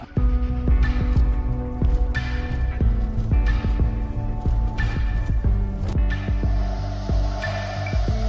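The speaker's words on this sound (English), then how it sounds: "Once the machine communicates with the collar, this sound will change to a kind of a heartbeat." A tracking collar receiver used to locate elephants gives off a steady electronic hum with a deep, regular throbbing pulse like a heartbeat, repeating about once a second, close and alone.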